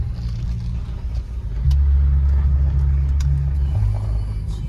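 A car drives along a road back into town outside Santa Fe, with a steady low engine rumble and road noise that swells slightly as it speeds up midway, heard from inside the vehicle.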